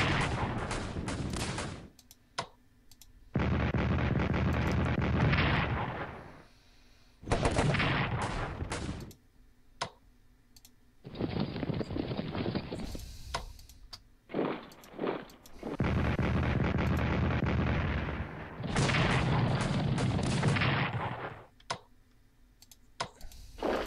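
Bursts of artillery fire in the World War I strategy game Strategic Command, loud crackling barrages in repeated blocks separated by short pauses and clicks, close and without talking.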